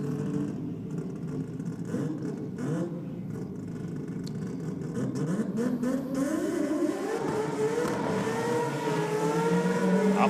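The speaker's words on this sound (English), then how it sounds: "Time to get into the burnout box and warm those slicks up." A drag racing car doing a burnout at a grudge racing event to warm its slicks, its engine rising in a long, steady, building roar with tyre noise, heard from a distance.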